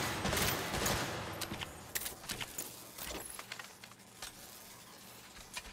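Distant gunfire from the video game Saints Row crackles in scattered bursts and pops over a background din with a metallic clinking, fairly faint and with no speech.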